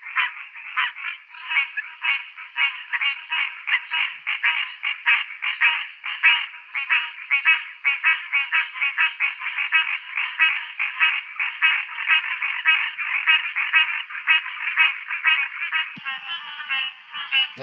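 A dense chorus of tree frogs calling in a recording, rapid overlapping pulsed trills running continuously and loudly without pause, with no other sounds.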